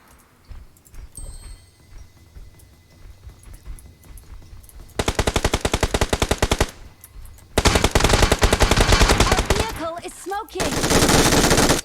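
Gunfire in PUBG Mobile comes in several bursts: a long rapid automatic volley, a pause, then another sustained burst and a final rattling stretch, with some quieter shots and game sounds in between.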